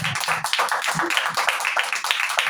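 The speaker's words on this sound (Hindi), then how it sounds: "हालेलुया, जोरदार तालियां बजाइए।" A church congregation claps loudly and rhythmically in quick bursts, with a voice briefly heard over the dense clapping.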